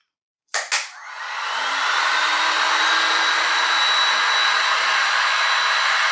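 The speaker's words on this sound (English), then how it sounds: "What about my air gun? Let's try that. I'll turn it on, I'll wait a few seconds," A sharp click, then a loud, steady rush of blowing compressed air that holds constant without a break.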